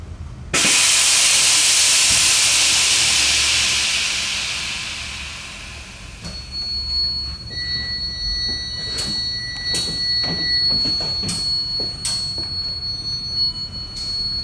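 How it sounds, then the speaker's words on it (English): Air suspension on a vehicle dumping its air as the body lowers: a loud, sustained hiss of rushing air that fades over several seconds, followed by scattered clicks, knocks and a faint whine. "So air suspension is dumped, vehicle lowered."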